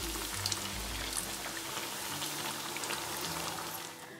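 Doughnuts frying in hot oil, giving a steady, dense crackle and sizzle throughout with no talking.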